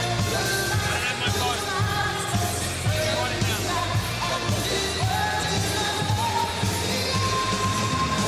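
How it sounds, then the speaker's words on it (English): A large crowd at a boxing event in the Middle East roars, cheers and whoops continuously, with music and amplified voices blending into a loud, dense wall of sound throughout. "Once again, guys, round of applause."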